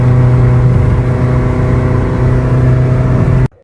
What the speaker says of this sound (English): My car is stuck in 3rd gear.